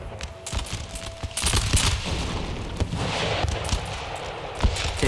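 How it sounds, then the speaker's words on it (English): Mortar and musket gunfire crackle through an Empire Total War battle, with dense irregular volleys, sharp bangs and heavy thuds layered over a constant rumbling din. "Taking mortar fire."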